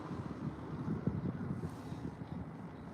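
Steady wind rushing and buffeting past a kayak on open water during spring bass fishing, a continuous low rumbling roar with gusty swells and no voices.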